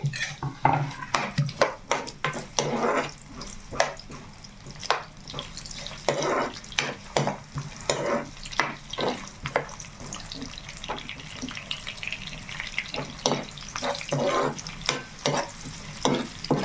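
Thinly sliced onion frying in hot oil, with a spatula clattering and scraping against the pan in quick, repeated strokes over a steady close sizzle, no one speaking.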